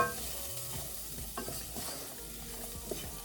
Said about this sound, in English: Then you add the sweet pepper, the garlic, and the onion. And this is on low heat. You stir.